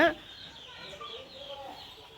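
Baby chicks peep and chirp in a poultry farm brooder, a steady chorus of thin, high calls going on without a break, moderately near and fairly soft, with no voices.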